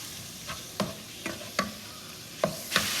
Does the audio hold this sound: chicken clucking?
no